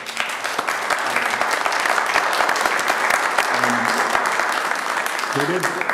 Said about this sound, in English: I'd like to, first of all, ask for a round of applause for Steve and Kurt and Mark.